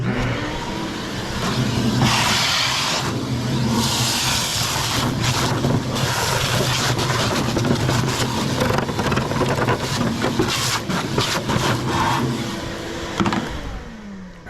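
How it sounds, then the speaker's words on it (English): A shop vac roars continuously while vacuuming debris from a Pit Boss pellet smoker, a loud, close, steady whoosh with rattling pickup noises that shift throughout and no voices. "So back to the shop vac."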